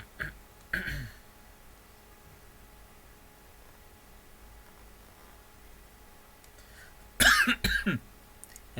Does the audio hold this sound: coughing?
yes